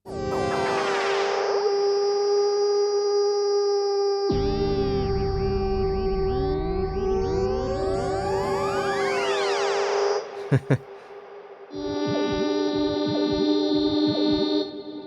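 A bright Aparillo synthesizer tone warps through swooping pitch sweeps and echoing, smeared repeats from its spatial range effect, with a brief pause before the sustained chord returns, loud and alone.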